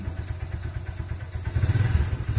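A big bore Honda XR150 motorcycle engine idles close by during idle adjustment, with a steady low, lumpy thump, rising slightly toward the end.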